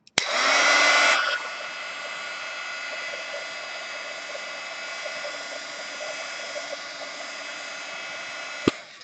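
Heat tool blowing over watercolor paint in a hot press watercolor journal: a steady close whooshing hum that starts louder, then settles into a constant drone lasting several seconds, ending with a click.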